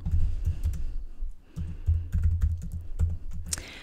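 Steady, close typing on a computer keyboard as an invoice is filled in, with rapid clattering keystrokes broken by a short pause and a low background hum, no voices.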